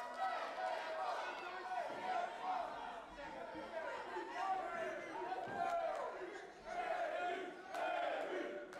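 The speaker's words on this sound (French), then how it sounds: "Et là, la foule qui montre tout son appui à Kevin Beru." A wrestling crowd at a live NCW show in Sainte-Thérèse cheers and shouts in support of a wrestler, a dense wash of voices rising and falling in waves, with a commentator talking over it.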